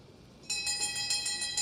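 A bell rings repeatedly to signal the final lap of a masters track cycling world championship race in a velodrome, a fast rhythmic ringing starting partway in over faint crowd murmur.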